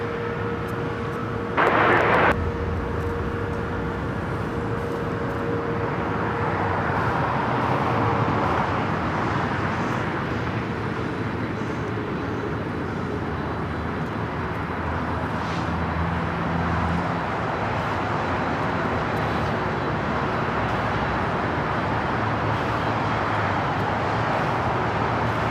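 Jet airliner rolling for takeoff on runway 25 left at LAX, a broad steady roar that builds and holds throughout, with a brief sharp burst near the start and a low engine drone beneath.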